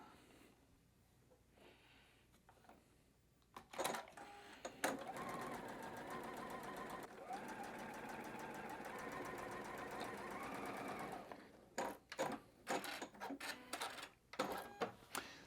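A sewing machine runs a 1/4 inch seam on quilting fabric, starting with a few short stitching bursts, then one steady, moderately loud whirring run, ending in several more short bursts.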